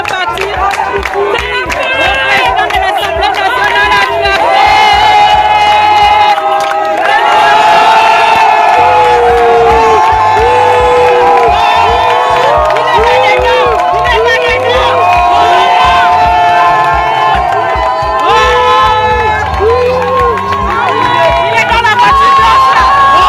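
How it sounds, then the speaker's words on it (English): Crowd of citizens lining a road in Gabon, cheering and applauding the military, a loud sustained mass of voices with shouts and whistles rising and falling throughout. "Many citizens lined up along the road to applaud the military"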